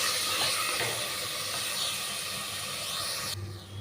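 A steady loud sizzle and hiss of tomatoes sautéing in a hot pan, continuous and close, dropping slightly at the end.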